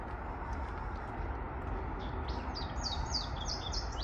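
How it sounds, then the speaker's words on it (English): Birds chirp in a series of short, bright calls during a walk near a riverwalk and bridge, rising out of steady outdoor rumble in the latter half, moderately near and fairly clear. "Birds are happy right now."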